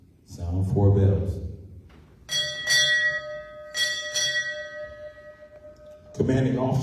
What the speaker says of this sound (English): Sound 4 bells.